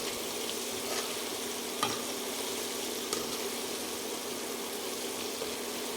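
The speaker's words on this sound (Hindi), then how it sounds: "इसलिए आपको इसको मीडियम हीट पे फ्राई करना है, इसे हिलाते हुए।" Schezwan-spiced chicken popcorn pieces deep frying in oil over medium heat while being stirred: a steady, fairly faint bubbling hiss with a couple of soft stirring knocks.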